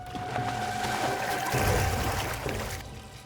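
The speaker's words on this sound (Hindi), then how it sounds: "पानी की आवाज?" Water runs and trickles steadily at moderate loudness, with a faint constant hum beneath it.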